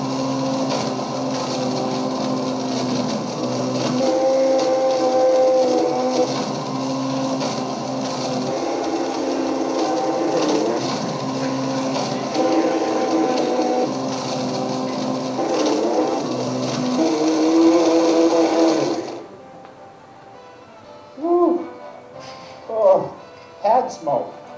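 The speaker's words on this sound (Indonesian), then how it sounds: "I knew I could get the iPad in the Blendtec Total Blender" A Blendtec Total Blender grinds up an iPad, a loud sustained harsh whirring and crunching roar that runs steadily for about twenty seconds, then cuts off, leaving a few brief clunks and rattles.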